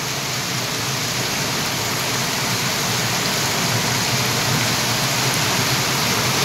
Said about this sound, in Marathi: बाहेर पाऊस भरपूर पडतोय